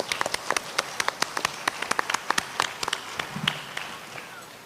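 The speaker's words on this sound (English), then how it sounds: "A round of applause for our guru today" An audience claps for a Bharatanatyam dance guru at a school recital in New Jersey, a dense run of sharp hand claps that thins out and fades near the end.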